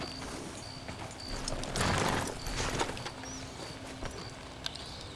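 Horse hooves clip-clop on the ground in the Western game Red Dead Redemption 2, with a thicker burst of trampling near the middle over outdoor ambience and a few faint bird chirps.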